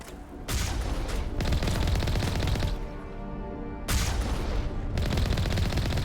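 Gunfire during a Mass Effect firefight against snipers on a hostile planet: two loud, sustained bursts of rapid shots separated by a short lull, close and harsh.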